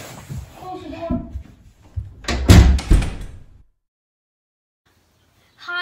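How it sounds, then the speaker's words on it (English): A door slams shut with a loud, heavy thud after a stretch of talking voices, followed by near silence. "Close the door."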